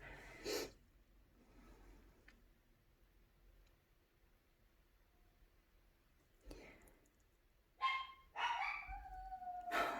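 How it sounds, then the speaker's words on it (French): A female dog howls in wavering, sliding tones toward the end, after a few brief snorts, close by in a quiet indoor room. "J'ai ma chienne, désolée."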